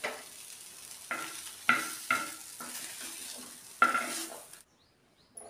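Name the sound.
stir-frying onion, tomato and coriander in a pan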